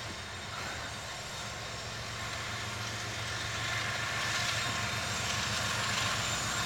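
An SD70M-2 freight locomotive hauling loaded hopper cars passes a railroad museum, a steady rumbling drone with engine hum that grows gradually louder as it approaches, with no talk.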